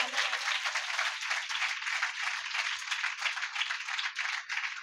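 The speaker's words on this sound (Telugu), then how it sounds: "అందరు చప్పట్లు కొడదామా ఒకసారి ఆ పేద విధవరాలకి?" A church congregation clapping together, a steady dense patter of many hands at moderate level, continuous for a few seconds with no talk over it.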